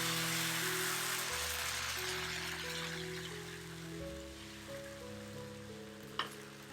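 Neer Dosa coconut batter poured onto a hot tawa, giving a soft, steady hiss and sizzle at close range, with a low hum beneath and one brief clink near the end.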